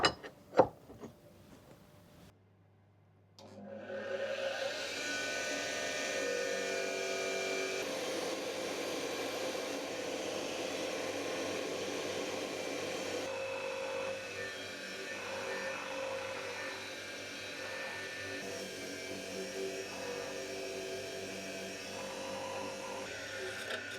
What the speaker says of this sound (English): I'm going to start with all the smaller bits because I can do those on the bench grinder.